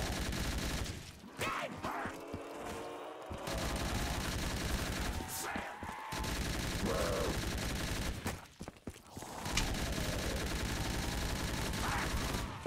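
A PKP machine gun in a custom zombies video game fires in long loud automatic bursts, broken by short pauses and reload gaps, with game effects layered on top.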